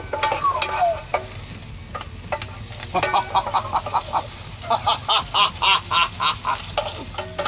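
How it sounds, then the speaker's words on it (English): Sausages browning in a hot frying pan, with steady sizzling broken by a run of rhythmic scraping and stirring strokes that grow louder and more regular toward the end, close by and with no voices. "You want to brown the sausages."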